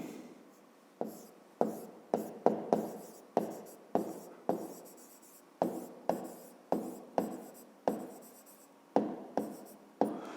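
Pen strokes scratching on paper during a fifth-grade math exercise on classifying triangles, heard as a close run of short, rhythmic scribbles with brief pauses between words and no talking.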